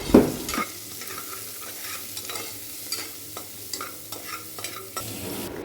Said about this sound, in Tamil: இப்போ நான் ஆல்ரெடி தட்டி வச்சுருக்க வெங்காயம், இஞ்சி, வெள்ளைப்பூடு 3 போட்டு நல்லா வதக்கிக்கிறேன்.